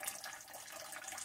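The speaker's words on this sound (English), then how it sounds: "crack this thing open until it just starts to leak. And it's best to just let it drip out like that." Antifreeze coolant drains from a cracked-open water pump on a PD TDI engine, a faint, continuous trickling and dripping of liquid with no talk.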